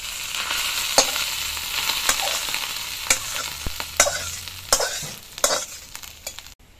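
Hot oil tempered with five-spice is poured into a pot of rice and lentils, giving a crackling sizzle with sharp metallic clanks and spatters that fade toward the end.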